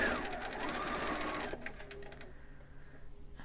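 Sewing machine running a seam on a monk robe, a quick buzzing stitch burst for about a second and a half, then quieter handling sounds.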